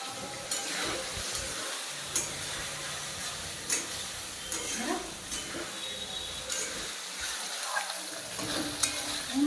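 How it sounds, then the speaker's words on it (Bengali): Pointed gourd (potol) being sautéed with spices in a pan, a steady close sizzle and frying hiss with intermittent stirring scrapes and light clinks, a voice occasionally speaking over the cooking. "মশলা দিয়ে পটলটা পুরো কষানো হয়ে গেছে"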